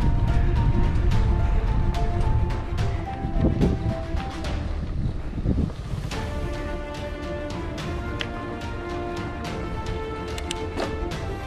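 Strong wind roars steadily across the microphone during a bike ride through Brgy. Malico, San Nicolas, Pangasinan, a loud continuous buffeting with gusts that rise and fall, no speech.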